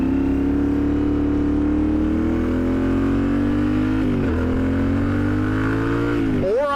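A Yamaha Tenere 700 adventure motorcycle engine drones loudly and steadily close by, pitch climbing slowly, dipping near four seconds and again at the end as the throttle shifts.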